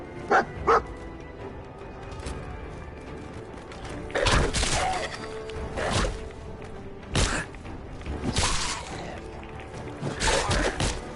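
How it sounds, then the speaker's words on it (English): Dogmeat, the dog companion in Fallout 4, barks in several sharp bursts spread across the stretch, some single and some doubled, over low game ambience, with no talking. "Get off my damn dog!"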